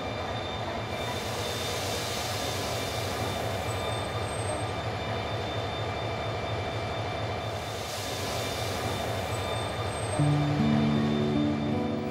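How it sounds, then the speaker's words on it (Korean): The last Gyeongchun Line passenger train arriving rumbles steadily with a constant low drone and metallic hum, growing slightly louder near the end as it rolls closer. "경춘선의 마지막 열차가 도착되고 있습니다"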